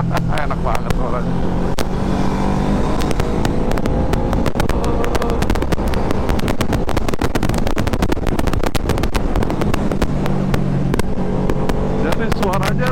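Loud, close riding sound from a QJ Motor SRV 600 V motorcycle: its V-twin engine drones continuously under heavy wind buffeting, with the pitch rising and falling as it accelerates.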